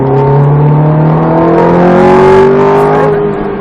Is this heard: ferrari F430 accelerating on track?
yes